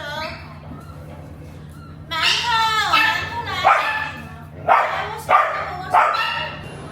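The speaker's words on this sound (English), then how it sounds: "The golden retriever is biting her shirt." A golden retriever at an indoor dog cafe barks and yips in several short, loud bursts close by, with a whimpering tone between them over a steady background hum.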